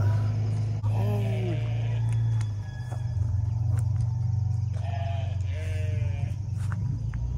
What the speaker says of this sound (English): There's a sheep right there.